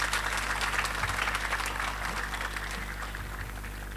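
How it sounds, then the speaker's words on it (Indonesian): At a closing ceremony for a search-and-rescue training course, an audience claps steadily, a busy patter over a constant low hum that thins slightly toward the end. "meriah lagi, tepuk tangan untuk MTA"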